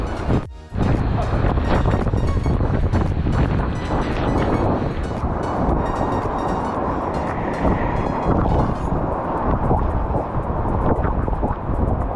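Loud, steady roar of a hidden waterfall in Raigad pounding close by at full pressure, continuous broadband noise filling the whole clip with gusty buffeting.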